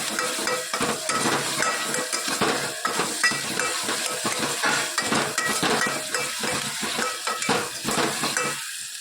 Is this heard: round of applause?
no